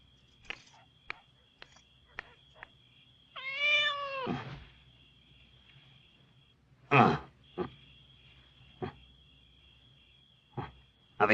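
A cat in a 1997 Hindi family drama meows clearly twice, one longer wavering call and then a shorter one, in an otherwise quiet room with sparse clicks and taps and a faint steady high whine.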